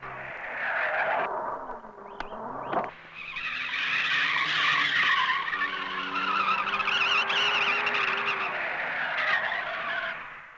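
A car is driven in a sharp turn and then backed up. A loud engine revs with squealing tires and skidding, followed by a steady strained whine as the car reverses. Nobody talks.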